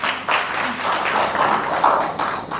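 An audience applauds for a children's forum at an official opening ceremony in a library services hall, the claps dense and moderately close for a couple of seconds.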